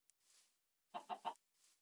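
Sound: chicken clucking in a video game

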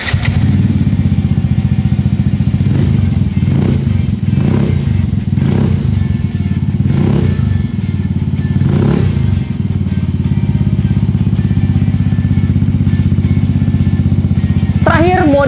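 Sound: motorcycle with carbon fiber exhaust

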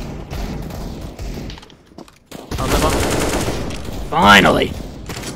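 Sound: gunfire in video game Counter-Strike: Global Offensive

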